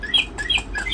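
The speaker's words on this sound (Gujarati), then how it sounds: "બે પક્ષી બોલશે આવી રીતે." Toy birds give a quick run of high, bright electronic chirps and tweets, close and fairly loud, repeating rapidly over a single second.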